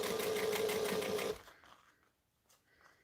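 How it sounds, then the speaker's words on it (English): A sewing machine back stitches along piping, a dense steady whir for just over a second before it stops abruptly, leaving faint quiet handling sounds. "We're going to back stitch, and then we're going to feel for that piping"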